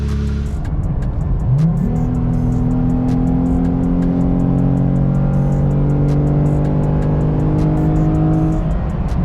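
A Jeep engine fitted with Ripp Supercharger coil packs idles, then revs up and holds a steady, loud drone with rising harmonic tones, running continuously close by.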